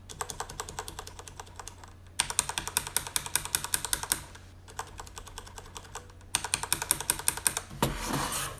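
Rapid clattery typing on mechanical keyboard keys, some fitted with rubber O-rings, comes close and clear in bursts of crisp clicks separated by short pauses, with no talking.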